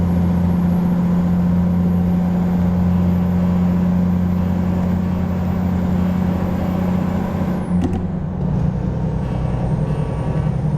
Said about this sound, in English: listen to the hum of the engine,